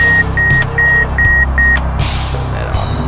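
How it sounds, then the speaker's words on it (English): Repeated electronic warning beeps from a Fighters Anthology flight-sim cockpit, sounding as five short, evenly spaced high tones in a steady rhythm over a loud, constant jet engine rumble. "I don't know why it's beeping"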